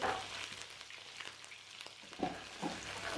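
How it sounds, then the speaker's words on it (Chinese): Chicken legs stir-fried over low heat in melted rock sugar caramel in a wok, giving a steady soft sizzle with scraping stir strokes near the start and again toward the end. "注意这里还是小火翻炒。"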